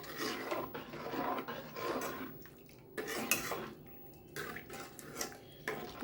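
Mashed potato being stirred into a tomato curry in a metal pot: repeated scraping and clinking of a spoon against the pot, steady and close, with no talk.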